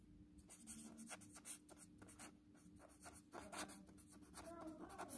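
A pen scratches across paper while a 3x3 matrix determinant is worked out, with quiet, close strokes coming in quick uneven bursts and short pauses, and no clear talking.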